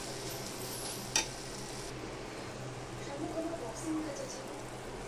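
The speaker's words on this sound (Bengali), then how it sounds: "দিয়ে এবার আমি নেড়ে দেব।" A spoon stirring mocha chingri, banana flower cooked with prawns, garam masala and ghee, in a pan. Quiet scraping sits under a soft sizzle, with one sharp clink of utensil on pan early on.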